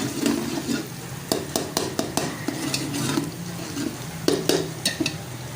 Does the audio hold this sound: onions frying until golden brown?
yes